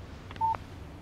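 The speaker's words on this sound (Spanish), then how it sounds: "Un mensaje de texto de Barry." A short electronic tone, a single clean beep, from a phone text message alert in the video game Alan Wake Remastered, faint and brief over low background hum.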